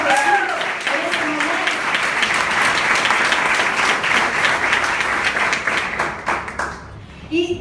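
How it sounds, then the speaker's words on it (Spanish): A church congregation at a Sunday family worship service bursts into sustained, dense applause that fills the room, with a voice speaking briefly over the clapping at the start and again as it fades near the end. "Denle un fuerte aplauso a Jesús en este"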